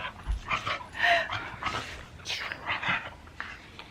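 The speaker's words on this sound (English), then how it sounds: "My dog is over here." A pet dog pants close by indoors, quick rhythmic breaths repeating steadily over several seconds at moderate loudness, with no talking.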